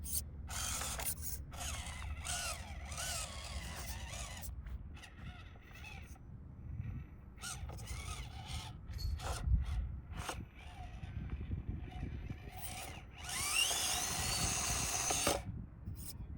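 An FMS FCX18 LC80 RC crawler grinds and whirs over gravel, its small motor and gears buzzing in uneven spurts with crunching and clicking stones, pausing briefly and then surging again, close and moderately loud.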